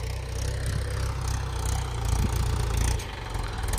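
A tractor engine runs steadily while the machine turns in a farm field, a loud, continuous low rumble with a slight dip near the end and no voices.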